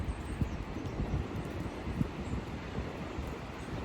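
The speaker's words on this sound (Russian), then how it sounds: "О, сосны шумят." Wind rushing steadily through pine trees outdoors, a broad continuous roar with gusty swells and some low buffeting rumble.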